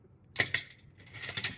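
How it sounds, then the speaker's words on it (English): Scissors snipping through cardstock while trimming a greeting card piece, a pair of close, crisp cuts followed by a brief pause and then a few more quick snips, quiet and with no talking. "let's go ahead and pull up our scissors"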